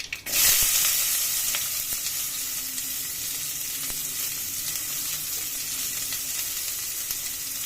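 Sliced onion sautés in hot oil after mustard seeds have spluttered, a steady close sizzle with soft crackles that stays fairly even throughout, no voices.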